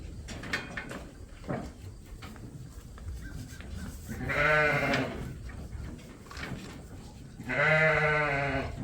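Sheep bleat loudly in a pen during deworming before breeding, two long wavering calls close by over clanking gates and shuffling livestock.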